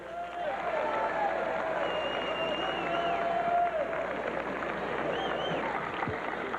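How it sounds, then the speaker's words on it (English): A wrestling crowd applauds Hall of Fame inductee Billy Wicks at a 1995 USWA TV event: a dense, steady wash of clapping and crowd noise, with a voice carrying over it throughout. "Big round of applause for Billy Wicks."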